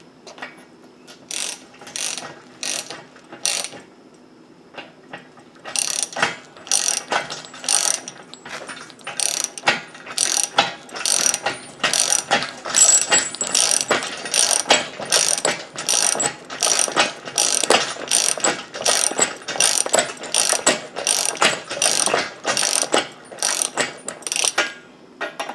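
Ratchet wrench with a 24 millimeter socket turning a nut on a hydraulic log splitter, loud close rapid clicking in bursts: a few short pulls, a pause, then a long run of regular ratcheting strokes.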